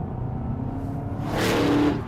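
HSV Maloo GTS ute engine while driven on a lap, a close rumbling drone that swells as it accelerates near the end, with no talk.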